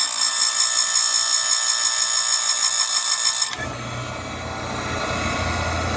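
A bench grinder sharpens a knockoff chainsaw chain with a loud, steady high-pitched whine that stops sharply after about three and a half seconds and drops to a low rumble.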